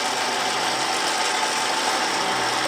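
An electric winch mounted on a solid-axle-swapped Toyota Tacoma, operated by wireless remote, spools its cable out and back in with a steady, continuous mechanical whir and grind that holds at an even level throughout.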